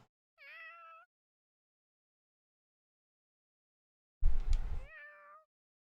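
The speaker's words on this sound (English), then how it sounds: "Kitty kitties." Two separate cat meows from a Fire Emblem Three Houses game, clear and close, with a short sharp burst between them and silence around.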